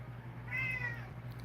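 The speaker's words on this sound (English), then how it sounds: "This cat can talk." A house cat meows once, a clear drawn-out call rising and falling over a steady low hum, as if asking to be let outside.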